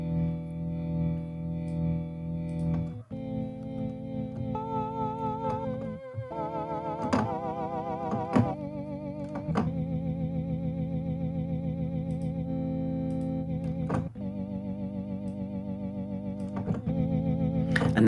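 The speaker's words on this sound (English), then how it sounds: "And that's where we get a lot of our Hammond organ sound." Hammond-style organ through a rotary speaker effect on a SoundFingers Heritage Organ, sustained chords with warbling modulation and occasional key clicks, moderately quiet with no voices.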